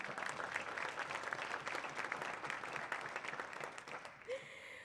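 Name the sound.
audience applause for the gala honorees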